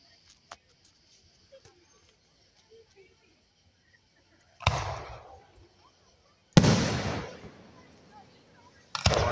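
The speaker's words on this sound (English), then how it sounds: "It's all smoked up from the fireworks." Fireworks at a farm show go off in three loud, booming bursts with crackling tails, separated by quiet pauses, preceded by a few faint distant pops.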